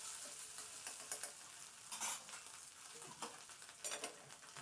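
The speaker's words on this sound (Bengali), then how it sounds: "ডিমটা নাড়াচাড়া করে দেখুন হালকা করে ডিমটাকে ভেজে নিয়েছি" An egg stirred while frying lightly in a pan: a soft, steady sizzle with scattered scrapes of a utensil and a few brighter stirring bursts, no voices.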